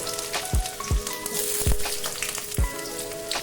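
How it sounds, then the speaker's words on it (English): Onions and ginger dropped into hot oil for a paneer sabzi, a steady bright sizzle with several sharp splattering bursts as pieces hit the pan, close and loud with no talk. "In this oil, we will put the onions, ginger,"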